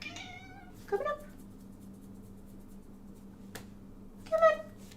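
A pet cat meows twice, once near the start and again toward the end, each call short and fairly close, over a quiet room hum with a soft tap between.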